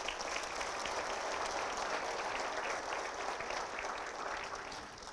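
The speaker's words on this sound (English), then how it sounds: "we owe them a debt of gratitude and a round of applause" Audience applause for students at a State of the City address, a steady dense wash of clapping heard at a distance, holding evenly before easing off at the end.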